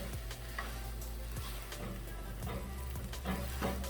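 Chicken and noodles are stirred in a sizzling pan, a constant frying hiss with scraping stir strokes every second or so, close and without talk.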